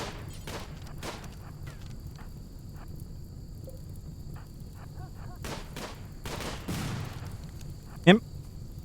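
Gunfire from the colony game RimWorld rings out as scattered, fairly faint shots among small clicks and a steady background hum, with one sharper crack near the end while a voice talks.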